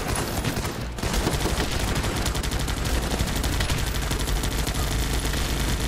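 Video-game gunfire roars almost nonstop, dense overlapping volleys like a massed firefight with machine-gun bursts. The barrage drops out briefly near the start and then resumes as a continuous loud clatter.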